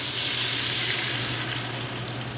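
Browned beef chunks sizzling in an Instant Pot, a steady hissing crackle at close range with no talking.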